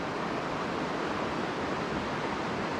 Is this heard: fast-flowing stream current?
yes